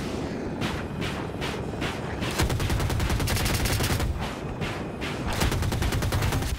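Apache attack helicopter cannon fire in Battlefield 2042, loud sustained bursts of rapid automatic shots in several long volleys, close and dense with explosive rumble, no talk.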